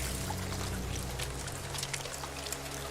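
In No Man's Sky, rain falls into an underground pool, making a continuous pouring, trickling splash with irregular droplet plinks, steady and moderately loud above a low droning background.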